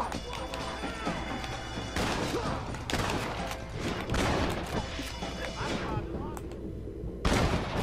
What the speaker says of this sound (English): I'm gonna shoot them all. Every single one of them.